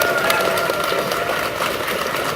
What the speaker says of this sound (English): Give a quick round of applause to our Minnesota Fire Service Pipe Band for their playing of the bagpipes today.